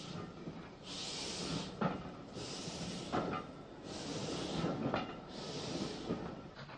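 A Midland Railway 0-6-0 tank engine from the 1870s, used for freight and shunting, gives four steady, evenly spaced bursts of hissing steam exhaust over a low rolling rumble, close by and without speech.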